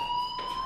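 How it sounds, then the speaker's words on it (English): A fire alarm in the game Life is Strange, a steady high electronic tone sounding continuously and fairly loud for under a second, with no talk. "Hey, do you hear that fire alarm?"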